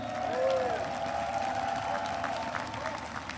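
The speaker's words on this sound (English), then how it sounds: "Give her a round of applause." An audience claps for Moldova's president at a political speech, a fairly dense wash of applause under a sustained tonal hum, slowly fading toward the end.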